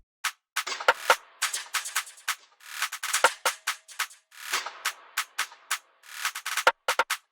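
Drill percussion loop of four layered hits, including a counter snare and rim, playing a busy syncopated pattern of crisp, sharp clicks and snaps at steady tempo, dry and alone.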